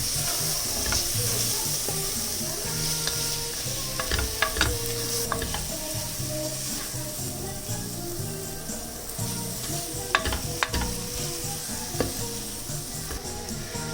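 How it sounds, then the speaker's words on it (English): Chili and coriander powder paste is stirred into frying onions for prawn mappas, a steady sizzle and scraping swirl running throughout with occasional sharp clicks of a spoon against the pan. "Now into this we will be adding the chili powder, coriander powder paste. Give it a mix."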